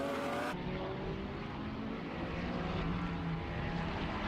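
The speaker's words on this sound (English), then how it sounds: "Haya had to get past the Porsche on that lap" GT racing cars at the Jerez circuit during a winter series race, a loud continuous engine roar sweeping past with a sharp change in tone early on, no talk.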